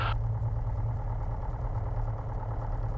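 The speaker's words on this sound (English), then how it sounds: "Alrighty, so what I'm doing is I'm just taxiing out." A small airplane's engine running steadily while taxiing out as number three in a four-ship formation: a constant low, throbbing drone close by with no talk, after a brief higher blip at the start.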